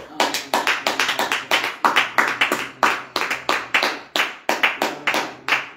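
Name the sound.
congregation clapping to acclaim the Lord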